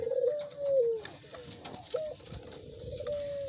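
A puter pelung dove coos in repeated drawn-out, gliding calls, close and clear over a faint busy background, with no talking.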